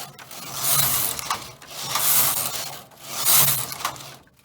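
A knitting machine carriage running across the needle bed knitting rows, three rhythmic rasping, clattering sweeps, each swelling and fading, close and clear with no talking.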